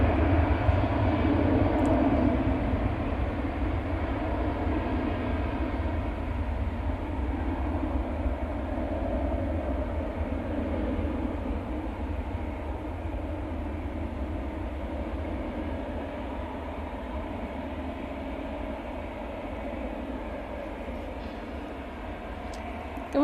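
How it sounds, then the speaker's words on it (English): An Aer Lingus ATR 72 turboprop arriving from Belfast gives a steady, loud propeller and engine drone that holds evenly throughout without voices. "Next arrival, a bit smaller, the ATR 72 Aer Lingus from Belfast"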